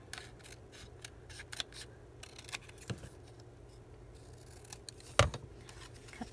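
Scissors snipping out a paper bird cut from book pages for a scrapbook embellishment: a series of quiet, close crisp snips and paper rustles, with one sharper louder cut near the end.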